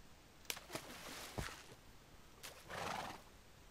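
A horse in Minecraft whinnies in short bursts over a few seconds, with a longer, louder neigh near the end, all fairly quiet and with no voices.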